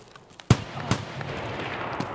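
Gunfire in the video game Escape from Tarkov: two sharp shots about half a second apart, the first louder, followed by a rumbling echo that fades over the rest of the moment.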